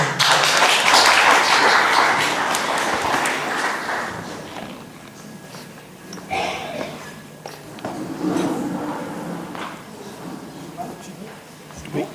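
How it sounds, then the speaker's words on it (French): A church congregation applauds as a speaker is welcomed, clapping loudest at first and fading over several seconds, then scattered taps and thuds with murmuring voices. "nous recevons Michel et nous l'applaudissons bien sûr"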